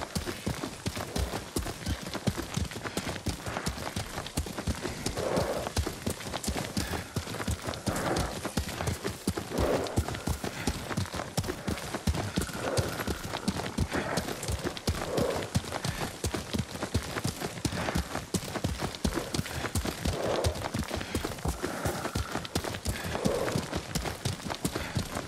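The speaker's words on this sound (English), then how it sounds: "Lord Sakai taught me to ride a horse" Galloping horse hooves in a feudal Japanese samurai video game, a steady rapid clip-clop running throughout with occasional whinnies, loud and continuous against background music and ambience.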